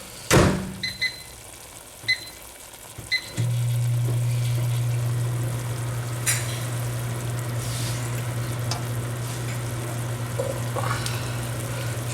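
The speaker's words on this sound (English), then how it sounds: "You're gonna hear the microwave going." A microwave oven running in a home kitchen while shrimp and rice are cooked, a steady low hum that starts after a few clunks and beeps and drones on evenly to the end, with no talking.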